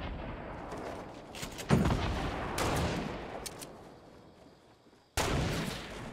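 Gunfire in the video game Fortnite with a sniper rifle, sharp single shots spaced apart, each followed by a decaying tail of echo, with a final loud crack near the end after a short quiet gap.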